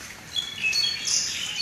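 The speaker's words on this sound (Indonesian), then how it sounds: "burung apa bu?" Small birds chirp and tweet in a garden in Blitar, with bright repeated calls that come and go over steady background hiss, fairly close by.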